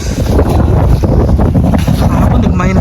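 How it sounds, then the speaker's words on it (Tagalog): Strong wind in snowy, freezing weather around minus five degrees, roaring and buffeting loudly and continuously with heavy rumble against the microphone. "Grabe lakas ng hangin oh."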